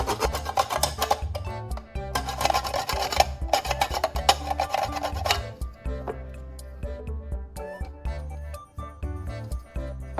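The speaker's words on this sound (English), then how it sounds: "I'll carefully file and sharpen the edge to give a smooth blade-like finish" A file rasps back and forth along a plastic edge in quick, uneven strokes, louder at first and then lighter and more scattered.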